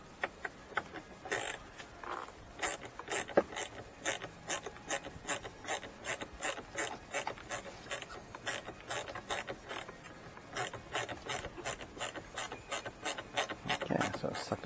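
Screwdriver tightening the screws of a passenger-side dash speaker in a 1991–1993 Holden Calais VP, heard as a long run of steady, rhythmic ratcheting clicks up close, with faint rubbing in between.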